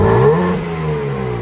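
A 2022 BMW M3 Competition with its 3.0L twin-turbo engine and active dual exhaust revs briefly up close. The loud engine note climbs quickly and then settles into a steady idle rumble.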